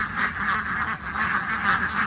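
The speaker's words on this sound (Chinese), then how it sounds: "不绝于耳的鸭叫声，" A large flock of ducks in a vineyard quacks continuously and loudly, many overlapping nasal calls forming a dense, unbroken chorus close by.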